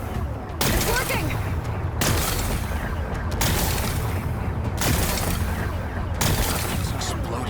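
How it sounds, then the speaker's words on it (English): Explosions blasting away rocks in the video game Horizon Forbidden West: a series of loud, rumbling booms with crackling debris. Each blast runs into the next in long, dense bursts, and they start up again after short breaks. "Gotta blast away some rocks, so I can expose the power cell."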